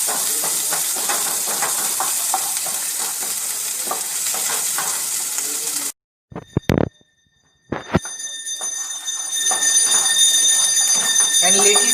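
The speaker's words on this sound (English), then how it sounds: "Now we are going to add our chopped onions. And we are going to fry them till translucent." Chopped onions crackle and sizzle loudly in hot white oil in a pan, a steady close hiss that cuts off abruptly, then resumes after a brief clatter and silence.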